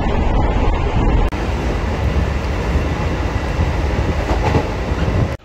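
A passenger train runs on the USBRL line in Kashmir toward Srinagar, heard from inside the carriage as a loud, steady rumble with rattling wheel noise, a brief dip partway through, and no speech.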